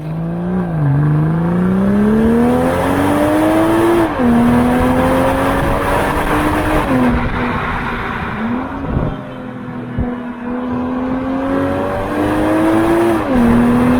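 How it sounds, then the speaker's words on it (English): BMW M440i engine revving hard and blaring close by, pitch climbing and dropping in repeated surges with brief gear-change dips over about fourteen seconds, loud and alone without any talk. "it gives a wonderful blare, like a bam, bam, from that lovely, lovely engine"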